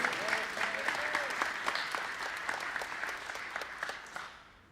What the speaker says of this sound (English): Can we have a huge round of applause for Terry and all of his work?